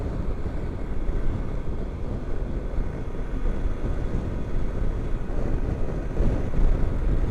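Steady low rumble of a Kawasaki Versys LT 1000 motorcycle on the move over rough, broken roads, blended with heavy wind buffeting the microphone throughout, loud and continuous with no talk.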